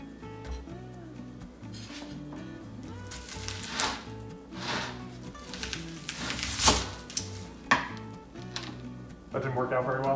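A knife chops onions on a cutting board in a home kitchen, an uneven series of quick, crisp knocks with brief pauses, fairly close and moderately loud, with faint music-like tones beneath.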